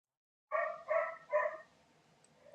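A dog barks three times in quick succession, clear and fairly close, then the room falls quiet.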